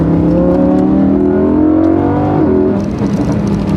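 Lamborghini Huracan 580-2 sports car engine revving loudly up through the range, a rising snarl that climbs then cuts off abruptly into a crackling burble, close and without talk.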